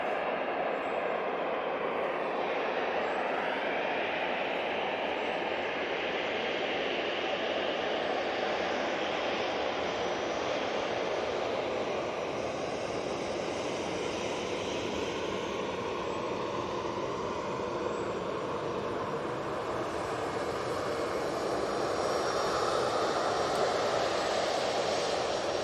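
A jet aircraft taxis at Manchester Airport, its engines giving a steady, broad roar and whine that holds at moderate distance for the whole stretch with no voices.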